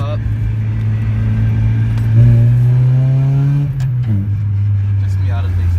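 A Mazda Miata with a soft top, its engine droning steadily in traffic, rising in pitch as it revs up mid-way and then dropping back to idle, loud and close throughout.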